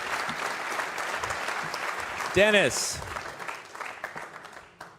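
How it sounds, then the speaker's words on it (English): Crowd applauding and cheering at a speed chess championship final, a dense wash of clapping that fades gradually, with a voice shouting a name and excited talk over it. "You can definitely hear the crowd."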